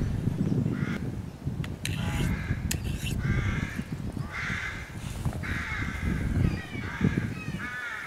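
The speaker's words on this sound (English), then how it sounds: "You know, crows in background." Crows caw repeatedly in the background, a string of harsh calls at irregular intervals over a low, busy outdoor rumble.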